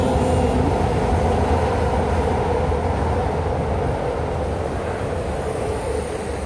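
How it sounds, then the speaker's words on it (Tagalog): A train passes along a track beside a US sidewalk, making a loud, steady, broadband rumble that stays strong and even the whole time with no talking over it. "Na may train doon, o."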